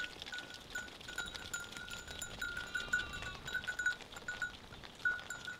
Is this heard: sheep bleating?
yes